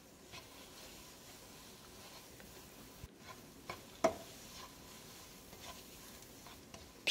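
Pumpkin puree with unsalted butter being stir-fried in a pan over medium-low heat: a soft, steady sizzle with scraping stirs and a few light clicks of the utensil against the pan, quiet and close, with no talking.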